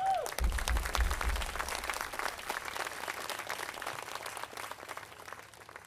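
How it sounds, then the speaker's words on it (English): An audience at an evening show of live acts applauds the sound engineer who has run sound all night, a dense spread of clapping sustained throughout, strongest early then gradually tapering off. "I think he deserves a round of applause."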